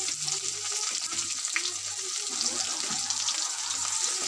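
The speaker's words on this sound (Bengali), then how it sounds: "পেঁয়াজটা একটু ভেজে নেবো" Chopped onion frying in a pan with bay leaf, chili, cumin and five-spice, making a soft steady sizzle close by with light stirring scrapes and no talk.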